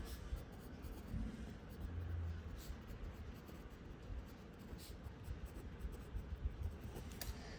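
Pen scratching steadily on paper while writing out given values for a class 10 geometry problem, continuous close strokes over a faint background hum.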